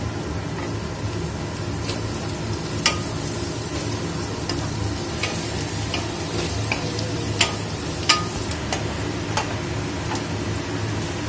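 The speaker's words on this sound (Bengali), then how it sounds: "তো পেঁয়াজটা ভাজা ভাজা হয়ে গেছে এবার দেব রসুন" Onion and garlic frying in a pan in a home kitchen, a steady close sizzle with occasional stirring clicks and scrapes, no voices.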